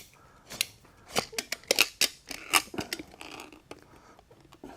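A cutter is worked around an aircraft oil filter to open it, giving a run of sharp, irregular metallic crunches and clicks, fairly close and moderately quiet, some coming in quick clusters.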